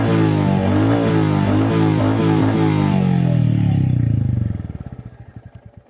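Royal Enfield Classic 350 motorcycle engine idling and revving loudly close by, a steady deep thumping drone that holds for several seconds before cutting off and winding down into slow, fading pulses, with no talking.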